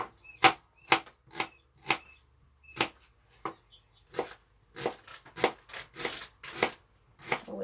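A knife chops an onion finely on a board for a homemade couscous salad (kisir), giving a run of about fifteen crisp, close taps at an uneven, moderate pace with no talk.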